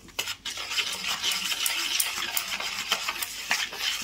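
Jalebi batter of flour, salt, Eno and food colour stirred by hand in a bowl, a steady close scraping and swishing with small clinks of utensil against the bowl, no voices.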